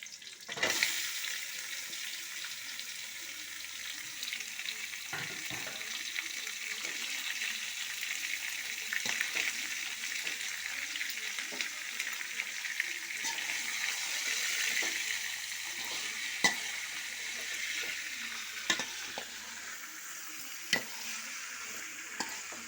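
Chicken sizzles and fries in a pan with small onions, curry leaves and dried red chillies while being stirred. The frying hiss is steady and close, with occasional clicks and scrapes of a spatula and no talk.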